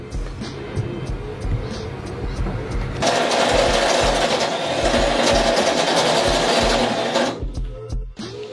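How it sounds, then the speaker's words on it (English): A power drill boring two holes through a boat's wall for cable glands, whining steadily and growing louder and harsher midway before cutting off. "Okay, so I've drilled my 2 holes."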